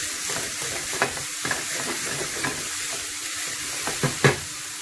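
Onions frying in clarified butter in a pan, a steady close sizzle with occasional stirring scrapes and clinks, no voices.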